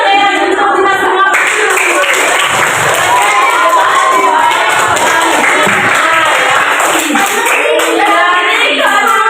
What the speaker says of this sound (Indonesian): Tepuk tangan ya untuk kita semua.